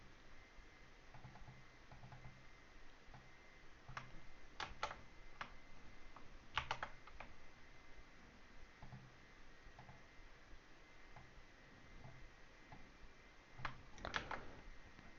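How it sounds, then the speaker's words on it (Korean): Tags being typed on a computer keyboard, faint sparse clusters of key clicks in short bursts with quiet gaps between, a low steady background hum underneath. "태그 스페이스바 누르면 그냥도 돼요"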